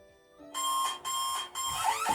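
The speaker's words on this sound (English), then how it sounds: "it's going to blare a bunch of alarms that are probably waking up my neighbors right now" Electronic alarms set off by a smile-detection program blare in three loud, harsh pulses of roughly half a second each, with a tonal hum underneath and rising shrill chirps at the end.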